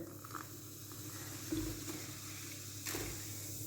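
Vinegar poured from a small amount into a bowl holding a spoonful of baking powder, giving soft trickling and liquid splashes with quiet fizzing, fairly close and low in level.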